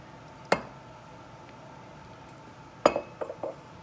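Glass clinks as bourbon goes into a glass for a drink: one sharp clink, then a cluster of several lighter knocks about two seconds later, close and fairly quiet against a low background.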